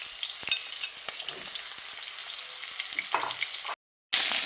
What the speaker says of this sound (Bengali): এইভাবে সমস্ত সবজি ভালোভাবে নেড়ে চেড়ে বেশ কিছুক্ষণ একটু ভেজে নেব